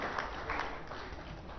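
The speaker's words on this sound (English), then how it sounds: "please help me with a big round of applause" A steady wash of crowd applause at a state forest department workshop in Telangana, many hands clapping together at moderate volume without pause.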